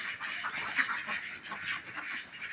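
Ducks on a farm quack in a steady, overlapping chatter at moderate distance, with no voices over it.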